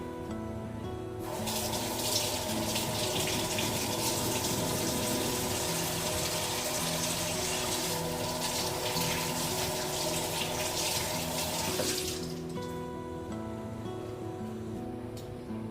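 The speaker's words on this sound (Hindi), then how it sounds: "टमाटर धो लेती हूँ, मिर्ची भी धो लेती हूँ।" Tomatoes and chillies are rinsed under a running kitchen tap, a steady close rush of water splashing into a sink that holds for about eleven seconds before the flow cuts off.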